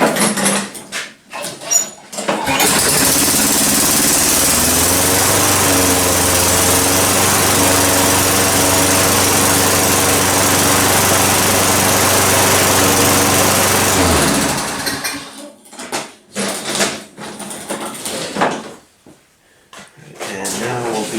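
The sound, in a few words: lawn mower engine starting and running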